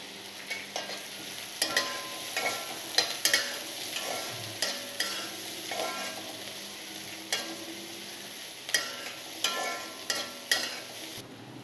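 Long-sliced large onion stir-frying in a wok for restaurant-style veg fried rice: steady close sizzle broken by rhythmic spatula scrapes and clanks against the pan, with no talking.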